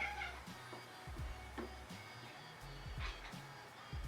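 A cat meows several times in short, separate calls, fairly close, over a quiet background.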